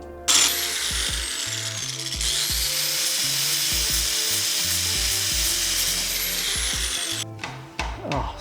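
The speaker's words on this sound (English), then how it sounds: "I'm gonna just grind a little bit of that down" A power grinder cuts down metal near the motor mounts of a mini bike being fitted with a 212cc engine, holding a loud, steady whine for several seconds close by before stopping, then a few clatters.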